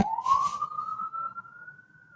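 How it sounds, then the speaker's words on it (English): A single siren tone rises and then holds steady, loud and close, with a brief noisy burst near the start. "There's a little siren I got for you."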